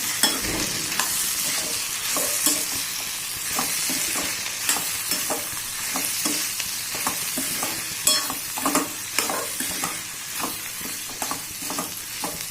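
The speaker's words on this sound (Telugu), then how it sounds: "వన్ స్పూన్ కారం వేసుకున్నాను బాగా మిక్స్ చేసుకోవాలి" A spoon stirs chili powder into food frying in a pan, with repeated scraping strokes over a steady sizzle, close and continuous throughout.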